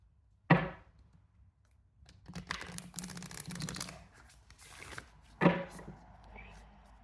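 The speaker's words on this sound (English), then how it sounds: "First, I'll pull an Oracle deck card, which will lead the discussion for this reading." An oracle deck being handled: a sharp card snap, then a few seconds of dense riffling shuffle, followed by another crisp snap as a card is pulled, close and quiet in a still room.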